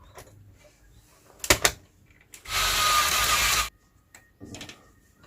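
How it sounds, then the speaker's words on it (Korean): Two metal slot covers come out of a PC case to make room for a graphics card in a gaming build. A few sharp metallic clicks lead into a sustained scraping, rattling burst, followed by lighter clacks. "요 두 개의 가림막을 제거해서 그래픽 카드를 장착해 줄게요."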